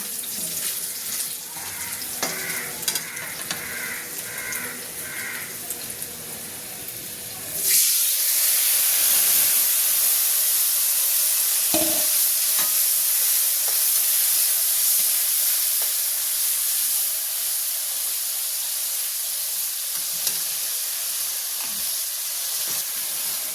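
Gravy for dhokar dalna, a lentil-cake curry, simmers in a pot. A few soft kitchen sounds give way to a loud, steady bubbling hiss that runs to the end.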